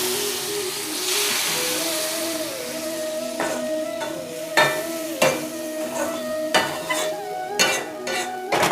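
Water poured into roasted semolina in a hot pan for rava shiro, a loud continuous hiss and sizzle with bubbling, followed by scattered clinks and scrapes of a spoon against the pan.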